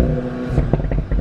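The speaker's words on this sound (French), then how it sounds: "vas-y, fais-nous un petit coup d'accélération pour voir" A VW Golf 7 R fitted with an Akrapovic exhaust is revved, loud and close, its burbling rumble rising and dropping with a few sharp crackles in a short burst.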